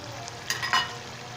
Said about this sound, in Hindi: अभी दही शामिल करके मैं अच्छे से भुनाई कर लेता हूँ।